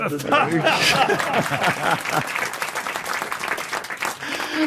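Studio audience applause on the French radio and TV panel show Les Grosses Têtes, loud and steady for several seconds, with panelists' voices talking and laughing over the first half before the clapping carries on alone.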